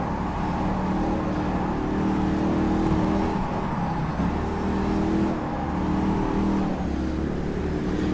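The Panoz Roadster's engine drones continuously in rFactor 2 during driving at Putnam Park, holding a steady loud hum with slight rises and dips in revs.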